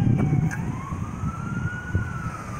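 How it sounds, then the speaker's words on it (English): An ambulance siren wails steadily in the distance near a railroad crossing in Gibraltar, Michigan, its pitch slowly rising and falling, with traffic rumble and brief talk underneath. "it's an ambulance"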